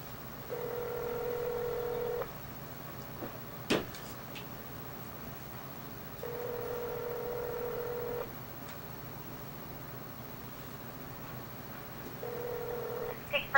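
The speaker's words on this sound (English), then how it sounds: "It's dialing." A telephone call ringing out: three separate two-second electronic ring tones spaced several seconds apart, faint and clear over quiet background hiss, with a short click between them.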